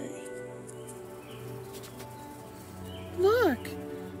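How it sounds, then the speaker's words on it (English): One bird gives a short, rising-then-falling call near the end over quiet morning ambience with a low hum, while a voice murmurs faintly earlier. "the lovely birds are started to sing in the morning"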